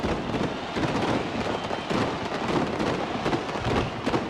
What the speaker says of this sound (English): We're now seeing the Darwin fireworks from the Northern Territory.